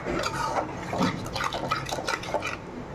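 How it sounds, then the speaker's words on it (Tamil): Water pours and splashes into a simmering curry of fried fish and fried potatoes, a short wet trickle with soft sloshing, close and fairly loud. "இப்போ இன்னும் கொஞ்சம் தண்ணி ஊற்றிக்கலாம்"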